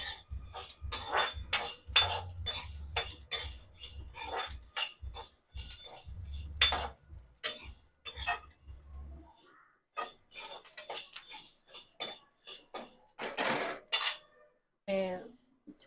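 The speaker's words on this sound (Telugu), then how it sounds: "ఇవి కూడా సగ్గు బియ్యం కూడా దూరగా ఇలా చిన్న సిమ్లో పెట్టేసి ఇవి కూడా ఇలా వేపేయడం" Sago pearls are stirred and roasted in a pan on low heat, a spoon scraping and clinking against the metal in quick irregular strokes, close up, with a low burner hum under the first half and someone talking throughout.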